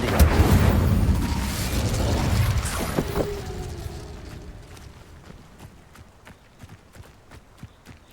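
Incendio fire spell in Hogwarts Legacy, a loud roaring burst at the start that rumbles for a few seconds and fades, followed by light footsteps and faint clicks.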